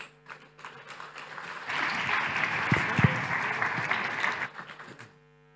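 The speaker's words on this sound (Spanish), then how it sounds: "Un fuerte aplauso para los tres." Audience applause for three panel speakers at a digital commerce conference in Santiago, swelling from scattered claps into a sustained ovation for about three seconds, then tapering off.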